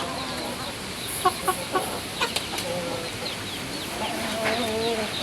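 Several short, soft clucks come in a quick irregular run over a steady noisy barnyard background, with a few faint calls later on.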